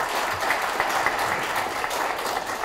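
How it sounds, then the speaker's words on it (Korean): Steady, full applause from the audience at a Korea University graduate school entrance ceremony, a continuous dense wash of many clapping hands without pauses or voices. "다시 한번 박수를 좀 크게 부탁드리겠습니다."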